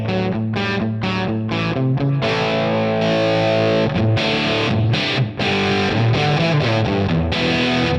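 Electric guitar played through a Helix amp preset with the clean boost switched off, a loud, distorted, effects-laden tone with strummed chords and sustained notes ringing continuously, alone with no talk.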